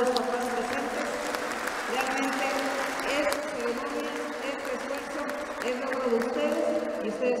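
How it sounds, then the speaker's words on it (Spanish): An audience at a ceremony handing out keys and scholarships applauds the parents, a moderate, continuous patter of clapping under a steady murmur of voices, fairly distant and even throughout. "Si me permiten brindarles un aplauso a todos los papás."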